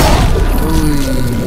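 Explosion in Resident Evil 6 during Leon's final fight: a loud, dense rumbling boom with crashing debris that holds steady over a second and a half, game audio filling the whole clip.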